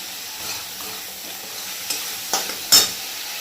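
Fish curry spices with turmeric sautéing in a pan: a steady low sizzle broken by a few distinct scraping stirs that grow louder toward the end, with no one speaking.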